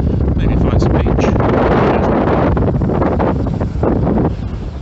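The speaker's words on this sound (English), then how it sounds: "As you can hear, it's quite windy." Strong wind buffets the microphone on an open beach at Vera Playa, Almería, with a loud, constant rumbling roar that holds steady and eases only slightly near the end.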